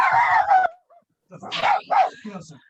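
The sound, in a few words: dog barking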